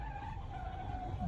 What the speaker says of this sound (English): there's a truck coming this way